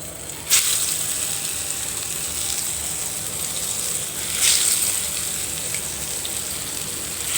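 Coated brinjal pieces fry in a pan, making a steady, even sizzling hiss close by, with a couple of brief sharper crackles and no talking.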